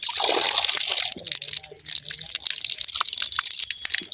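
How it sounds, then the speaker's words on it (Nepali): A village water spout or tap runs, giving a steady splashing gush with scattered drips and trickles, close and moderately loud. "बाप्रे पानी धारा बवाल भएको छ पानी धारा"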